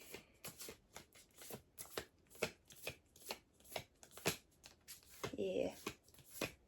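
Tarot cards being shuffled over and over, a quick run of crisp flicks and riffles, close by, with a brief murmur of voice near the end.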